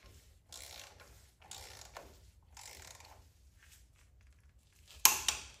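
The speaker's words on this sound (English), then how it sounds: "what you wanna do is hand tighten all the bolts and then torque it down." Hand-tightened bolts on a Ford F-150 front differential cover (2021–2025 model) give off faint, intermittent ratcheting clicks in several short bursts, ending in a sharper pair of metallic clanks, with no talking.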